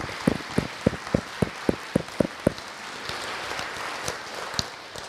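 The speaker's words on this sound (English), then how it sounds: "I wouldn't mind if we just show them a round of applause for the work that they've done." Round of applause at a beekeeping club's open meeting, a few sharp isolated claps leading in, then a light scattered patter of clapping from a small audience.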